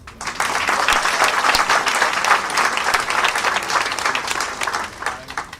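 An audience claps steadily for Mr. Juan Daniel at a welcome and orientation program, a dense, sustained round of applause of many hands filling the room for several seconds with no talk over it.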